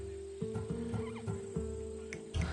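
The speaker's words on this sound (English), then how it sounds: "That horse is from Thessalonia" A Thessalonian horse bred for courage whinnies in a short, wavering neigh, close and fairly quiet over a steady background hum, with a few soft knocks and shuffles around it.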